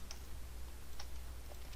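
Computer mouse clicks in a 3D modelling program, a few short, faint clicks, some paired, over a low steady hum with no talking.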